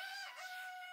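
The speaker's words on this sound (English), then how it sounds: "Hearing a rooster call" A rooster crow from a Mario Party video game rings out, a bright, tonal, game-sound cock-a-doodle-doo with strong harmonics, held steadily for about a second, alone and moderately loud.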